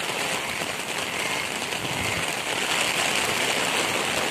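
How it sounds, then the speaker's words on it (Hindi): A downpour in Swabi, Pakistan roars on without pause, a thick, close wash of rain with running water beneath it and no talking. "बहुत तेज बारिश है"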